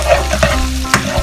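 Onions and garlic stir-frying in a pan sizzle steadily, with a few scraping strokes of a utensil against the pan, close and fairly loud with no talk.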